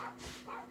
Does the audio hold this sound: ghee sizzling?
no